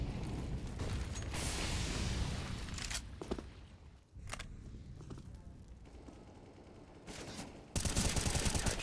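Rifle fire in a competitive first-person shooter match, an A1S rifle landing a headshot amid ongoing gunshots and game effects, several sharp cracks over a dense, loud background.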